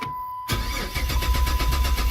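A car engine cranks over without catching after a brief silence, the starter churning in a fast, even rhythm that grows slightly louder. It sounds close by, with no talking.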